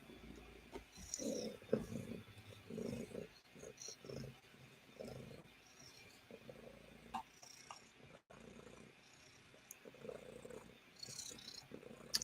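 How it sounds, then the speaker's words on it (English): Soft, low rumbling purr pulses steadily up close, faint and continuous with a quiet ambient hiss around it. "You can hear her purring, I think."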